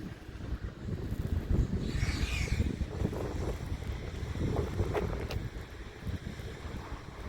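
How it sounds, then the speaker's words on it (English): Steady, blustery, chilly wind at a campsite buffets the microphone with a low rumbling roar, continuous for several seconds with no voices. "It's really chilly, windy."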